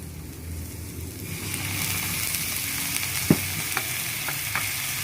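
Coconut milk hits a hot frying pan and rises into a steady hiss and sizzle, close and clear, with a few sharp clicks of a utensil against the pan and no voices.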